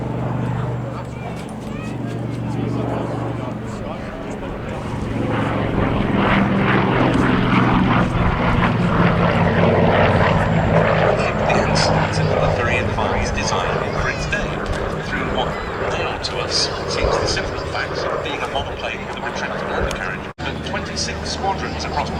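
Avro Anson C19 and Messerschmitt Bf 108 Taifun propeller aircraft flying at a Duxford air display, a steady engine drone swelling louder as one passes through, with commentary over a public address running throughout.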